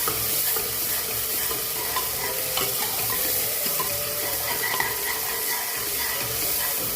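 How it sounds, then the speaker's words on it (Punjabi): Garlic and onion frying in a pan for a tempering, a steady close sizzle with stirring scrapes throughout, no talk. "ਤੜਕੇ ਲਈ ਤੋਂ ਬਾਅਦ ਲਸਣ ਪਿਆਜ਼ ਤੇ ਲਸਣ ਨੂੰ ਚੰਗੀ ਤਰ੍ਹਾਂ ਭੁੰਨੋ"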